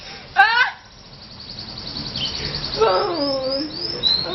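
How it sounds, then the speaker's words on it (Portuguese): A Belgian canary sings close by in short bursts of quick bright chirps and trills, with pauses between phrases. "o canário belga canta que nem um desgraçado"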